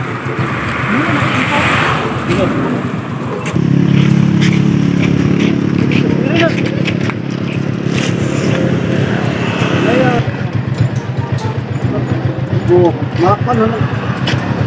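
A passenger vehicle's engine idles and rumbles by a roadside in the Philippines, with steady road traffic noise throughout and people talking over it.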